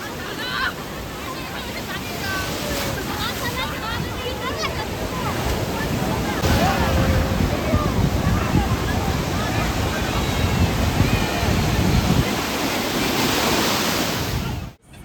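Sea waves at Puri beach roar in a loud, continuous wash of surf, with wind buffeting the microphone and people's voices mixed into the noise.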